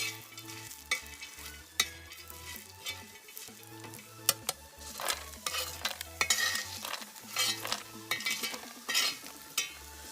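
Roasted chickpeas (phutane) being lightly dry-roasted and stirred in a pan over a wood-fired chulha, giving repeated close scraping and stirring strokes with a faint sizzle under steady tonal background sound.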